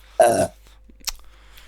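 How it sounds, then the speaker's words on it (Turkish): A single loud, close burp lasting about a third of a second, followed by near silence and a faint short noise. "Finaline geğirerek geleceğim abi"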